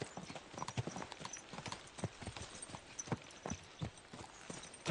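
Horse hooves clip-clop at a steady walking pace in the medieval video game Kingdom Come Deliverance 2, soft and fairly distant, the irregular thuds running throughout.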